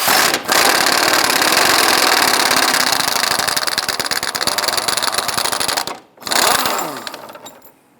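An impact gun whirs and rattles loud and close while loosening the 18mm rear cradle bolt on a Chrysler 300, a long continuous burst, a brief pause, then a shorter burst that fades out.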